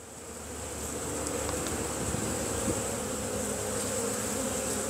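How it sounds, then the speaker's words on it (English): Close, constant buzzing of many bees on a hive frame, a steady droning hum with no voices. "There's a lot of bees on this one."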